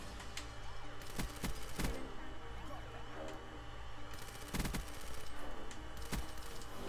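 Rapid bursts of PPSh submachine gun fire in Call of Duty WWII team deathmatch on the Combine map, crackling in quick runs with short pauses and layered with other distant shots and game sounds.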